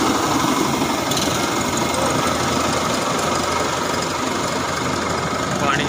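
Engine-driven carrot washing machine running on a farm, a steady loud mechanical drone with rattling and churning water, and someone talking over it.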